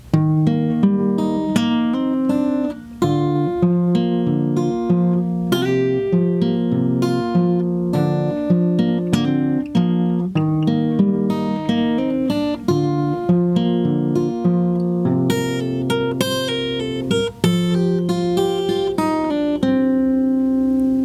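A solo acoustic guitar played fingerstyle at a slow pace, the solo from a song, with plucked notes and ringing chords flowing steadily throughout, no voices.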